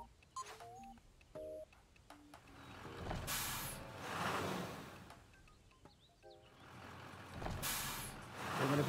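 A vehicle in the video game Echo Generation heads into town, with game interface blips and beeps, then loud hissing air bursts and a rumbling engine swelling and fading, with no talking.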